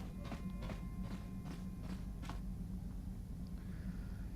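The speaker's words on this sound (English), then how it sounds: "You think you hear the soft patter of footsteps behind you" Soft footsteps in Star Wars: Knights of the Old Republic on the original Xbox: several light, faint steps in a loose rhythm over a steady low rumble, fading out after a few seconds.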